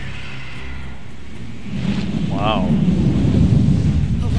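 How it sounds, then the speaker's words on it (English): Rumbling, roaring storm noise from a giant storm creature in Final Fantasy XV, a low broad roar that swells louder partway through, with a brief whooshing cry above it and a short exclamation from a voice. "A live hurricane. That thing's like half bird, half storm, half airship."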